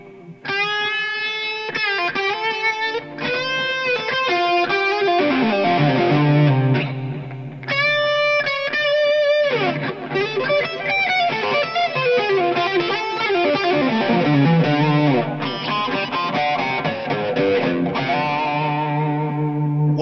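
Electric guitar through a drive preset called up on a pedal switcher in a fly rig, loud distorted chords and bending lead lines ringing with echo and reverb, continuous and close with no talk.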